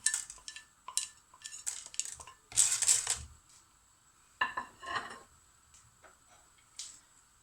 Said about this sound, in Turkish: Şöyle mısırlarımı tencereme ekliyorum.